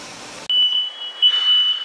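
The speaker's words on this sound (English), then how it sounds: "Some smart man decided to put a fire alarm in our kitchen. So every time we cook food, it goes off!" A kitchen smoke alarm sounds a loud, piercing, continuous electronic beep that cuts in abruptly after a brief burst of hissing noise and holds steady close by, with no voices.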